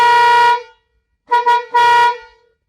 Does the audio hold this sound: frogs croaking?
no